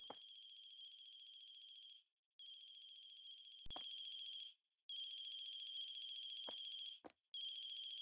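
A phone rings in a horror video game set in a late-night cafe, a steady electronic ringtone repeating in long bursts with short pauses, clear and alone with no talking.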